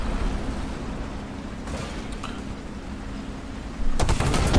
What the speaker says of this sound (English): Face death from the 120mm cannon of doom.